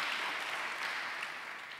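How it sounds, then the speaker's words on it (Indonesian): A church congregation claps together in steady, dense applause, a bright even wash of hand claps that holds at the same level throughout the short stretch, with no talking over it. "Tepuk tangan bagi Allah kita."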